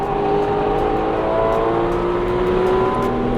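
A 2016 Porsche 911 GT3 RS driven fast on a track, its engine a loud, sustained high-revving whine from close inside the car, with no talk.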